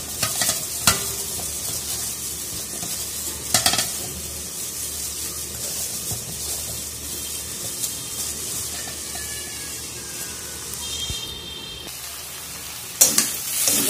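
Vegetables and tomato bhuna frying at once on two stoves in a home kitchen, a steady close sizzle broken by a few sharp clattering stirs, with no talking.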